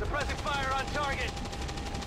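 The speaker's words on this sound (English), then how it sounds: "Suppressing fire on target." Suppressing fire from soldiers in XCOM 2 makes a dense, sustained rattle of automatic gunfire with no gaps, layered under game effects.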